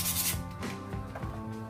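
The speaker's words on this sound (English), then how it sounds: "just a quick little sand." A hockey stick repair sleeve is sanded by hand in a few quick, close rasping strokes, loud and dry, with no talk.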